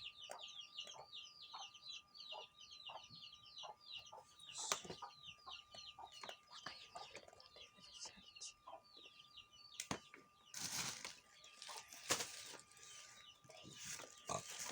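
Young chicks cheep in a quick, continuous twittering for the first few seconds, faint and distant, then give way to scattered clatter and other household noise.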